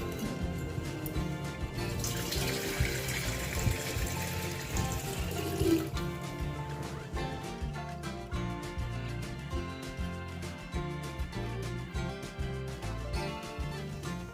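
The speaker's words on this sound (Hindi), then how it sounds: "इसके बाद घड़े को धुलूँगी और इसमें पानी भरूँगी" Water runs and splashes steadily while a clay pot is washed and filled for a household Hindu puja. A louder gush comes early, then a continuous pouring, trickling flow, close and alone.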